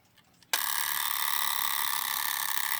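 A mechanical wind-up alarm clock bursts into a loud, continuous metallic bell ring after a brief quiet start, the clapper's rapid rattle sustained steadily to the end.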